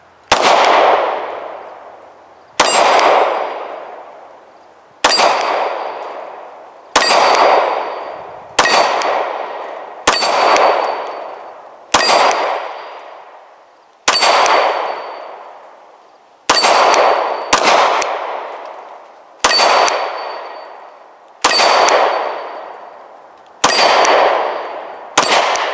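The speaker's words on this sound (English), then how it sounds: "See if we can put a couple rounds on target so you can see how that dot tracks." Pistol shots from a handgun fitted with a Trijicon SRO red-dot sight, each followed by a ringing clang off a steel target, about a dozen loud evenly spaced impacts with long metallic decays.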